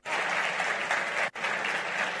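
Dense applause from a conference audience at a design talk, loud and continuous with a brief dip partway through before the clapping resumes just as strongly; no speech over it.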